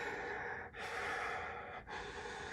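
A narrator's voice imitates a man's heavy breathing, two slow, husky breath cycles heard quietly and alone, with short pauses between them.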